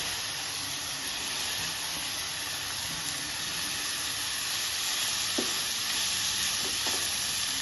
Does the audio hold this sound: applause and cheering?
no